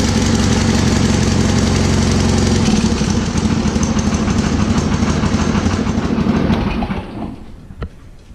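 A diesel tractor engine chugs loudly and steadily close by with a rhythmic rumble after a hard start, then winds down and fades toward the end.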